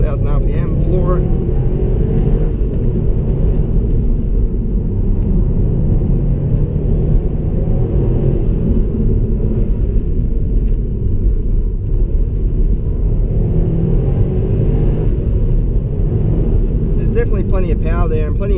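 A 2016 Subaru WRX STI accelerates at full throttle in second gear on a track, its loud engine roaring continuously and close up inside the cabin, while someone talks over the noise.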